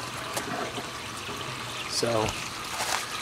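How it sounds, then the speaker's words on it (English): Water trickles and pours steadily through valves into an IBC aquaponics grow bed, a constant close stream with a brief spoken word over it. "the valves control how much water flows into the bed"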